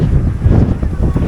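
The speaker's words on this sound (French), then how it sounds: "il y a du vent" Wind blowing over rice fields on Sumatra near Bukittinggi, at about 900 metres altitude, buffets the microphone in a steady, loud, low rumble with no pauses.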